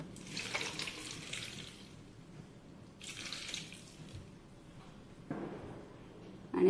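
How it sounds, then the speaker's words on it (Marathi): Water poured into a mixer jar holding mint leaves and a small piece of ginger for sherbet, heard as two short splashy pours of a few seconds each, quiet and close, with a light clink at the end. "आता याच्यात पाणी टाकून घेऊया।"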